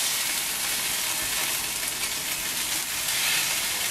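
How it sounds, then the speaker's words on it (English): Shakshuka sauce bubbles and hisses in a pan as it is mixed around, a soft continuous sizzle with faint stirring, close and without talking. "Let's give this a good mix around."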